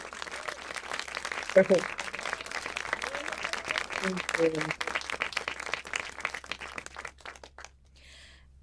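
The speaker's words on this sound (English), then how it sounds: "Please join me in giving her another round of applause" A full-house audience gives a round of applause for a film director at a screening event, crackly clapping that swells then thins out, with a speaker's voice briefly heard over it before it dies away.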